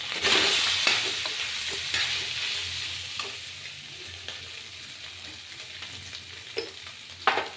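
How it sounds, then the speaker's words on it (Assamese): Soybean chunks fry in a pan, a loud sizzle at first that settles into a steady, softer crackle, with occasional scrape and stir sounds. "এতিয়া মই সয়াবিনখিনি অকণমান ফ্ৰাই কৰি ল'ম।"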